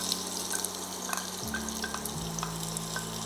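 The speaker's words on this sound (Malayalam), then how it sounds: "സവാള നല്ലപോലെ ഒന്ന് വഴറ്റിയെടുക്കാം നമുക്ക്." Three small onions sautéing in hot oil for beef vindaloo, a steady close sizzle with occasional stirring scrapes and light clinks of a utensil against the pan.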